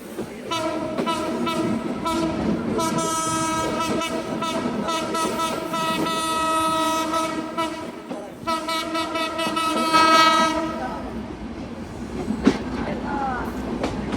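The Benapole-bound Ruposhi Bangla Express passenger train runs through Jhikargachha railway station, sounding long sustained horn blasts over the steady rumble and clatter of the rail cars, close and loud.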